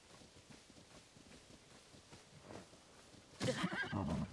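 A horse whinnies loudly near the end after a few seconds of soft background noise, in the video game Zelda: Tears of the Kingdom.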